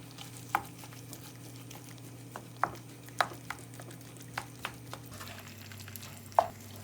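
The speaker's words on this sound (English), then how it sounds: "Then mix all together." A spoon stirs lamb mince with yogurt in a pan, giving soft scraping clinks at irregular intervals over a low, steady sizzle and hum, close and quiet.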